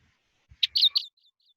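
Leaf warbler from India singing a brief, slow-paced trill of a few high, clear notes, close and alone.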